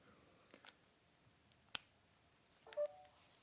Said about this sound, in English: you heard the audible tone on my smartphone to indicate that the phone is now charging